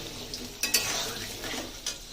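Papaya pieces fry in hot oil in a pan, giving a steady close sizzle with a few sharp utensil scrapes and clinks and no talking.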